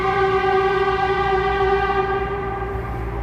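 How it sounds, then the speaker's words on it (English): Ambulance siren on a Chicago street, a loud, steady wailing tone with strong harmonics held close and continuous over low traffic rumble, with no talking. "ambulance."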